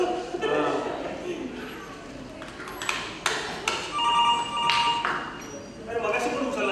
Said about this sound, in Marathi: अरे फोन वाजतोय.